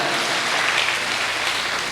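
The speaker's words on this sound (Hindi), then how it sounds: "तालियां बजा दी" An audience at a Hindi comedy poetry gathering claps together, a loud, dense burst of applause filling the room without pause.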